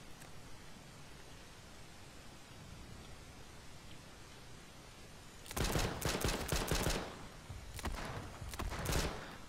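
Gunfire from a weapon in the battle-royale game H1Z1: King of the Kill, with bursts of loud shots in clustered volleys in the second half, following several seconds of quiet ambient noise.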